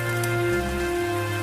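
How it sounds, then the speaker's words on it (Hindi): Heavy rain pours as a dense, continuous hiss over a steady tonal drone, loud and unbroken for the whole short stretch. "बारिश और तेज हो गई।"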